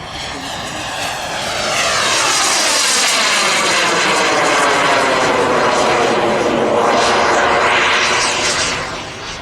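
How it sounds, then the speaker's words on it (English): A model jet's gas turbine roars loudly as it passes close by at an air show, its whine rising and sweeping in pitch with a strong Doppler shift. "you'll hear the gas turbine being cut on the downhill leg"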